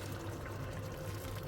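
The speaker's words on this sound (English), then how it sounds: "Just adding some water" Water poured into a pot of coconut beef curry, a steady, continuous pouring and splashing at close range that holds evenly for the whole stretch with no voices.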